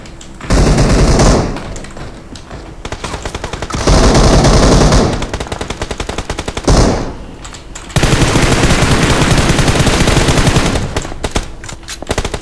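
Loud, sustained automatic gunfire in PUBG Mobile, coming from behind the player, in long rapid bursts separated by short pauses, with occasional heavier booms.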